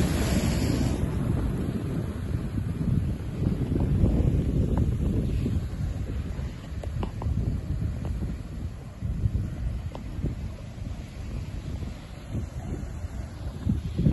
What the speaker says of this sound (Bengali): এই যে আরেকটি ঢেউ আরেকটি ঢেউ